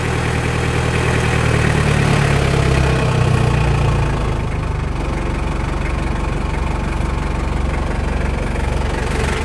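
A Toyota Hilux Surf SSR-X with a 3.0 diesel idles with the high idle engaged, a loud, even, close rumble that stays steady throughout with a slight shift partway through.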